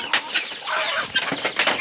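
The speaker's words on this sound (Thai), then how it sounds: "มีแต่ไก่ชนเด้อพี่น้องเด้อมีแต่ไก่ตี" Fighting cocks clashing on a rural farm, a short burst of flapping wings, scuffling and clucking squawks, close and fairly loud.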